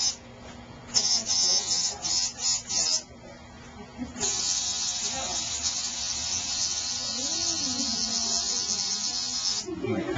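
An electric tattoo machine buzzes in short stuttering bursts, then runs as a steady, fairly close high-pitched whine for several seconds, while someone talks over it during tattoo training.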